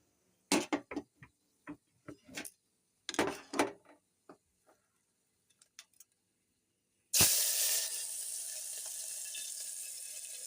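Onion tipped into hot oil with popping mustard seeds, giving an immediate loud, steady sizzle that hisses on after scattered sharp crackles and pops from the seeds.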